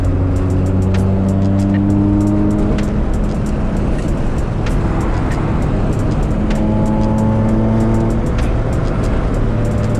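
A right-hand-drive Acura Integra with a K20 engine and sticky tires drones along a rough, bumpy road, its steady close engine hum overlaid with repeated clunks and rattles from the uneven surface.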